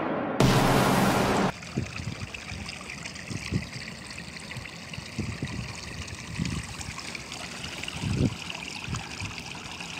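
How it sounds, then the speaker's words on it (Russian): A stream runs and trickles steadily nearby during a walk in Italy, a soft continuous babble broken by a brief loud rustle at the start and a few low thumps. "Приятный звук бегущей воды."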